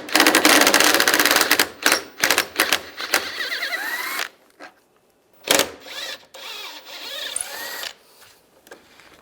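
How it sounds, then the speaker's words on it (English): A tool whirs and ratchets in bursts while a T30 socket backs bolts out of a 1999–2005 Volkswagen Jetta air deflector, with clicks and metallic handling noises between runs. The work is close and there is no talking. "Then we're going to use a T30 socket. Take these two bolts out on the sides."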